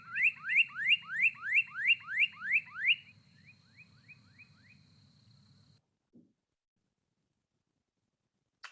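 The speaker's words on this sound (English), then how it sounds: "So the northern cardinal is probably the best studied North American female singer." A female northern cardinal sings a series of about nine loud, clear downslurred whistles in quick rhythm, then a few fainter, quicker notes trailing off, over a soft insect buzz that then falls silent.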